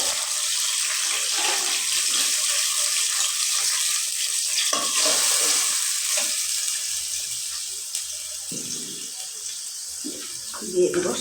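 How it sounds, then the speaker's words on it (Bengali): A blended paste of garlic, onion and green chili fries in a pan while being stirred, producing a continuous close sizzle with scraping and stirring sounds that softens slightly toward the end. "এটা আমি ভালো করে ভাজে নেব।"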